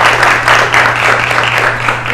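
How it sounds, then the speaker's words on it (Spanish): An audience applauds steadily for a couple of seconds, a dense patter of many hands clapping with a low hum underneath and no voices. "un aplauso para ella"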